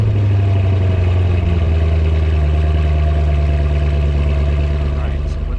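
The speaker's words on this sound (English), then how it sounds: "Cold start 2013 427." A 2013 Corvette 427 V8 running at a cold-start idle, a loud, steady low rumble with a faint rise in pitch near the end.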